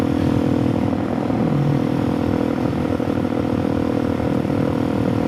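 Suzuki DRZ 470 Stroker motorcycle engine while riding in fourth gear, a loud steady droning thrum with rough mechanical clatter, heard from on the bike.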